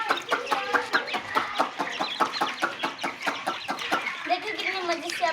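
Young ducklings eating feed, giving a rapid, continuous string of soft peeping chirps close by, with pecking taps between, steady throughout.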